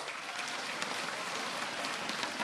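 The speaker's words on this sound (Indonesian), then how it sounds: "Kita berikan aplaus." Steady, dense applause from an audience at a political declaration rally for Prabowo, a continuous even patter of many hands clapping throughout, with no voices over it.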